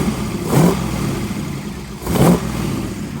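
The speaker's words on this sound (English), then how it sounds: "revving right up off of idle" A 1932 Ford roadster hot rod engine fitted with an EMPI and Pierce eight-stack IDF carburetor conversion blips up off idle twice in quick succession, rising and falling over a steady idle.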